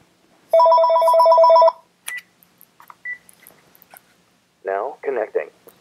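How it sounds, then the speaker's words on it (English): A telephone rings as a call connects, with a steady electronic ring tone lasting about a second, then faint clicks and beeps and a person talking. "you'll be able to hear both phones ringing"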